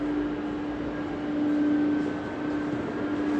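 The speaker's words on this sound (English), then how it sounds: "There's a train." A train rumbles steadily nearby with a constant low hum and a faint high whine, loud and continuous throughout.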